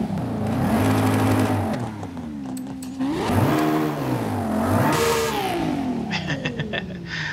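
A V12-swapped Lexus LC 500 drag build with anti-lag in Forza Horizon 5 revs hard three times. Each climb in pitch is followed by a drop, and a crackling burst comes near the end.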